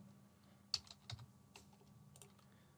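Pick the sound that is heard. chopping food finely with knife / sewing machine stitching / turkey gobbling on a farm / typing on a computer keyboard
typing on a computer keyboard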